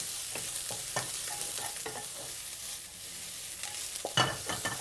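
Chopped garlic sizzles in a hot pan while being stirred for a Chinese spring onion ginger fish stir-fry, soft scraping strokes and crackles over a constant gentle frying hiss.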